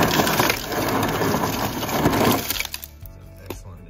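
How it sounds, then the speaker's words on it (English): Crushed ice pouring from a Kenmore side-by-side refrigerator dispenser, a dense close rattling rush lasting a few seconds before cutting off, leaving a few faint clinks. "Okay, let's switch it over to crushed ice."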